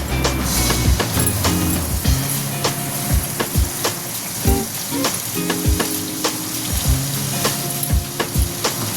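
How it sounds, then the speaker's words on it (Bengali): Cashews and raisins frying in oil in a pan, a loud, close crackling sizzle punctuated by regular knocks and scrapes of a spatula against the metal. "যে কাজু কিশমিশটা তোমাদের দেখিয়েছিলাম সেইটা, এই একটু ভেজে নেব"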